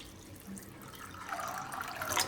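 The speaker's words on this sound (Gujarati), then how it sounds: "આમાં આપણે થોડુંક પાણી નાખી દેવું" Water runs from a tap into a pot of peas being rinsed and set to boil in a home kitchen, a soft steady splash that swells louder toward the end, with no talk.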